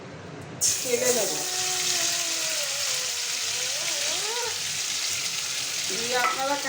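Hot oil sizzles steadily in a wok on a home kitchen stove while shrimp with kharkol leaf paste is prepared; a voice talks over the continuous frying hiss.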